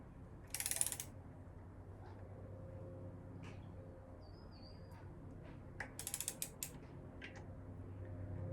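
Socket wrench ratcheting on a CB Performance 2017cc engine long block during assembly, two short rapid clicking bursts, one early and one near the end, separated by a low quiet workshop hum, close and with no speech.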